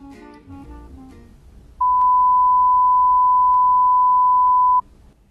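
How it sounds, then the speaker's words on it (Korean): A 1000 Hz pure test tone sounds loud and perfectly steady for about three seconds, then cuts off abruptly. "1000Hz 소리인데요"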